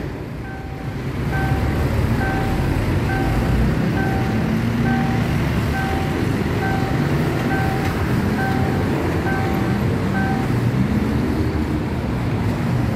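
A train rolls through the Prachachuen Road railroad crossing, a loud, continuous rumble and rushing roar that builds in the first second and then holds, with a repeating two-tone crossing signal beeping over it.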